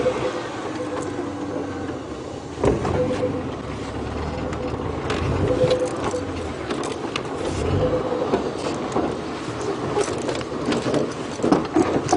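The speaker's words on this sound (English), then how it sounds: "There's a car coming. I'm just going to move it slightly off the road." A safari drive vehicle rumbles and rattles as it pulls slightly off the road, a loud close engine drone with creaks and bumps from rough ground, with no talk.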